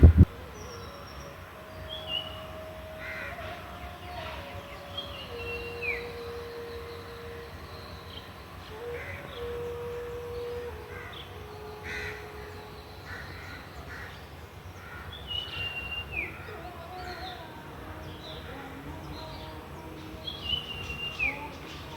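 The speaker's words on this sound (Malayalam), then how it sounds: "കിളികളുടെ കളകള ശബ്ദവും കുയിലിൻ്റെ കോവലും" Birds call and chirp on and off over a low, steady outdoor hum in the early morning, with crows cawing and an Asian koel's clear call occasionally ringing out.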